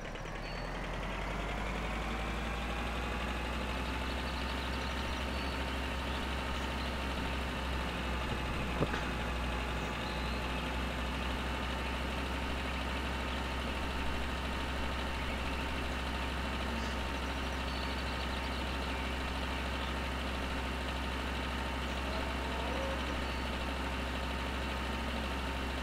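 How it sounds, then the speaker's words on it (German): Combine harvester engine idling in Landwirtschafts Simulator 2013, a steady, continuous mechanical drone with a deep low hum and layered harmonics, holding constant and alone for the whole stretch. "den Motor habe ich vergessen auszumachen"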